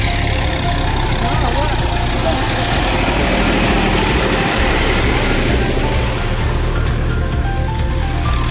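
Tractor ploughing a paddy field in a village, its engine running steadily and loudly close by throughout, with people talking over the continuous low rumble.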